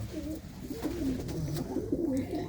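Pigeons of a fine breed cooing in a loft, a steady run of low, throaty coos repeating through the moment at close range, with no talk over them.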